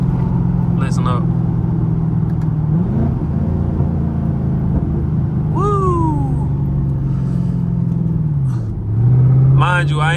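Chevrolet Camaro SS engine revving while driving, a loud steady drone with a rise and fall in pitch as it downshifts near the end, close and continuous with speech heard over it.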